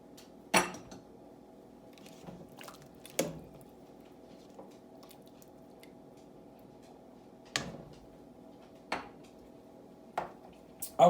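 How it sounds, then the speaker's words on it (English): A utensil knocks and scrapes against a pot of mashed apples while an orange is fished out for homemade apple cider; sparse, fairly close clinks come in scattered pairs over a faint steady hum. "But first we want to fish out the orange."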